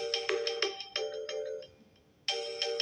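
A Samsung A9 phone ringtone plays as a bright repeating melodic pattern, soft and close, pausing briefly before it resumes.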